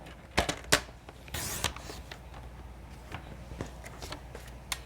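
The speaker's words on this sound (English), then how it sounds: "I will layer these and cut through both layers at the same time" Scissors or a trimmer cutting through two stacked layers of cardstock for card mats, a few sharp snips and a brief scraping slice, then scattered soft taps and handling noise, close and fairly quiet.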